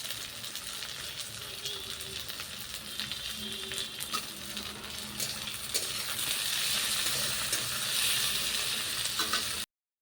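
Tomatoes frying in a pan with spices and browned onions, producing a soft, steady sizzle with occasional clinks of a utensil, swelling a little louder toward the end before cutting off.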